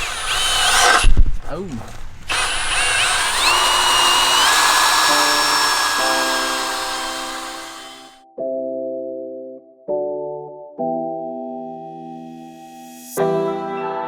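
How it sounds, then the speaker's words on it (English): A power drill whirs loudly for several seconds, its pitch rising and falling, then stops and restarts in short bursts with a brief exclamation. "just drilling some holes"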